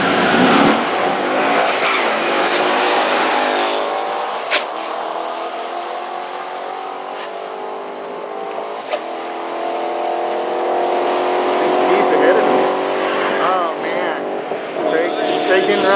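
Drag race cars launch at Sonoma Raceway, a loud rising engine roar with tire noise that climbs and sustains as they pull away, with crowd and commentary voices mixed in under it.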